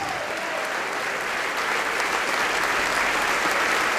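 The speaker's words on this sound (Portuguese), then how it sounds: "Oh glória, vamos aplaudir mais" A church congregation claps together in a continuous, dense burst of applause that fills the room evenly and holds at a steady level throughout.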